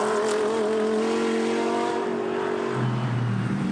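A GT3 race car engine during night practice at Spa-Francorchamps, a steady loud drone that holds a strong pitch before dropping lower near the end, continuous with no talk.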